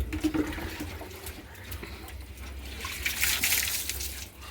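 Water splashing and trickling as it is poured from a bucket over a dog during a winter bath, a steady close wet pouring with a low background hum and no talk.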